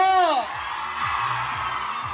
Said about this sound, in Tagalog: Sigawan at palakpakan for Catherine Bernardo!